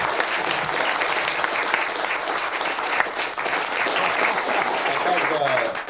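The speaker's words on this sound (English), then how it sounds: "give them a round of applause" An audience applauds at a live conversation event, steady dense clapping filling the room from start to finish with no break.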